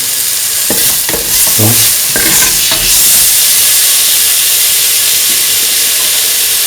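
Green chili hits a hot pan of oil and sizzles with a loud, steady frying hiss, a few stirring clinks early on, then continuous bubbling spatter; no voices.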